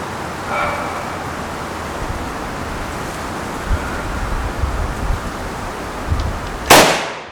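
A Riley Defense RAK 308-C rifle fires once at an outdoor range, a single sharp loud crack near the end after a quiet stretch of wind and faint handling noise.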